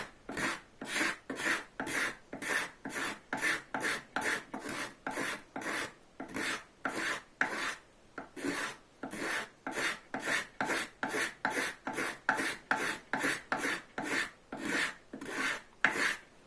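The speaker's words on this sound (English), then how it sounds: "The card scraper is actually really, really good at making subtle curves and removing small amounts of the material." Steel card scraper shaving wood while shaping a bow saw, a long run of quick, regular rasping strokes, close and fairly loud, with brief gaps between passes and no talking.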